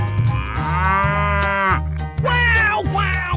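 A cow in a 3D animal video game gives a long, loud moo followed by two shorter moos, clear and close over a steady low game soundtrack.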